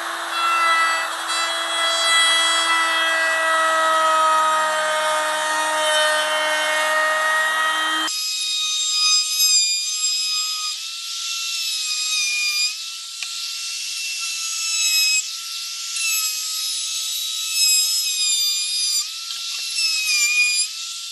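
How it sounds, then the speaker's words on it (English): Loud, steady high-pitched whine of a trim router with a roundover bit rounding the edges of a wooden pizza peel, with shifting tone as the bit moves along the edge; first a lower hum, then a sharper scream. "I'm just going to use my roundover bit in my trim router just to ease the edges off this."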